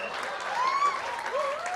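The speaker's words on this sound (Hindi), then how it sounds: "इनके लिए जोरदार गालियां, सॉरी तालियां." Audience applause at a live comedy show with comedian Rehman Khan at the Borivali Design Feast, a steady wash of clapping running throughout, with faint whistles or cheers gliding over the top.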